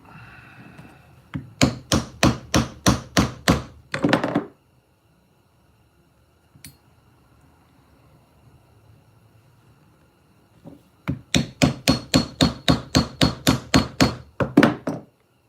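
Hammer blows set a rivet in leather. Two close bursts of about a dozen rapid, solid thuds each are separated by a quiet pause that holds a few faint taps.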